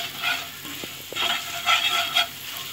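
Masala for egg curry stirred in a pan over low heat, giving close scraping swishes in several uneven bursts over a continuous frying sizzle, with no voices.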